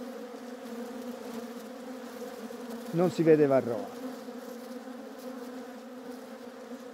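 Honey bees buzz at an open hive in a steady, close hum that runs throughout, while someone speaks briefly in the middle over the drone.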